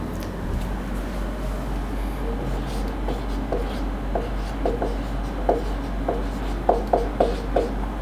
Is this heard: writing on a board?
yes